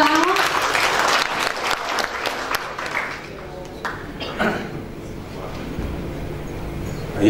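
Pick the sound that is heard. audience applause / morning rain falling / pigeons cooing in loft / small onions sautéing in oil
audience applause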